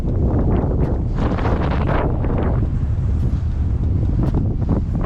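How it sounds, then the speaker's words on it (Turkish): Strong wind buffets the microphone continuously with a loud, rumbling roar and gusty surges throughout, outdoors while a Yuneec Mantis G drone is flown. "hava şu an o kadar rüzgarlı olmasına rağmen drone iyi dayanıyor"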